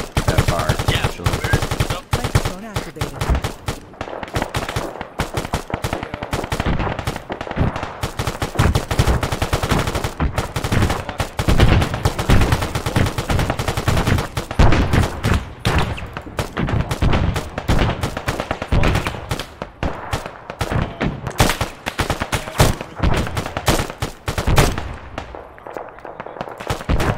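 Dense, loud gunfire fills a firefight in ARMA 3 with the Halo mod, with rapid automatic bursts and overlapping single shots crackling almost continuously, with brief lulls, across the whole stretch.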